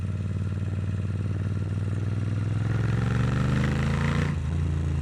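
A Moto Guzzi V7 III motorcycle rides through a residential neighborhood, its engine loud and close with a throbbing rumble that climbs steadily in pitch as it accelerates, then eases off near the end.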